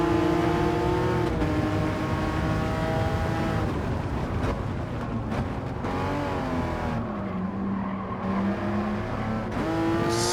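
A racing car engine in Gran Turismo 7 roars steadily, its pitch climbing and dropping through gear shifts, loud and continuous with no talk.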